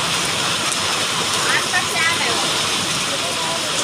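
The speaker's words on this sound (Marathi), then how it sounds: "पाऊस कमी पण वारच जास्त आहे ना." Slanting rain driven by strong wind in a village, a dense constant hiss of rainfall and gusts filling the whole clip, with a faint voice underneath.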